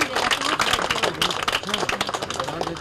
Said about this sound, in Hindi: ताली लगाओ, ताली।